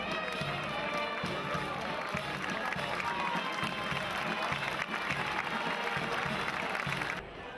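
Crowd at a bullring giving a big ovation to a marching band, steady dense applause and cheering throughout, with a commentator speaking over it.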